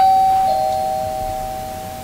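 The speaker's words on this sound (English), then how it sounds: "when the doorbell is pressed, a Wyze light would turn on like this." A single electronic Wyze video doorbell chime rings out clearly, a steady sustained tone that slowly fades, with no voices.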